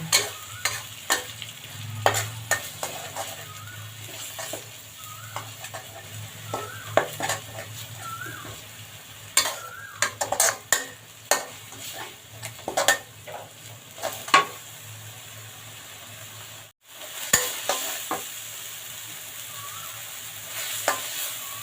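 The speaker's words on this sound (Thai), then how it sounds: "ไฟไม่ต้องแรงนะคะ เดี๋ยวพริกแกงเราจะไหม้นะคะ ผัดไปเรื่อยๆค่ะ" Red curry paste stir-fried over low heat in a pan for a spicy catfish curry: a soft, steady sizzle broken by repeated close spatula scrapes and clinks against the pan, with no talking.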